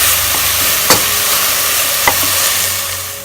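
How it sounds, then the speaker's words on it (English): Onion and garlic sauteing in a pan for meat stuffing, a steady loud sizzle with two brief clicks of a utensil against the pan. "a tablespoon of garlic after about 7 minutes of sauteing the onion"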